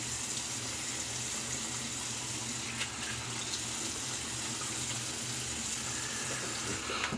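A bathroom tap runs steadily into a sink for rinsing after a shave with a Merkur Super Platinum blade, a constant close hiss of water with faint clinks, no one speaking.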